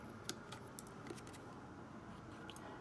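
Scissors snip along score lines in cardstock for a small school treat holder, a few faint, sharp cuts over a steady low background.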